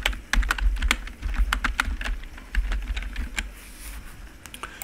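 Rapid, irregular clatter of keys on a computer keyboard, close and continuous, with no voices.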